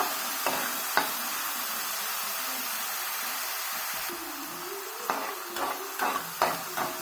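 Onion pieces fry in a pan for a broad bean and tomato curry. A faint steady sizzle runs under sparse scraping strokes and light clicks of the stirring spoon, louder toward the end.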